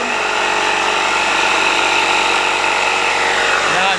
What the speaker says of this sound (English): now I'm going to reach over to turn on the compressor